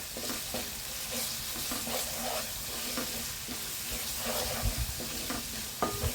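Ginger frying in a pan, cooked until its raw smell is gone, for a Telugu tamarind fish curry: a steady close sizzle with spoon scrapes and stirring knocks throughout, no talk.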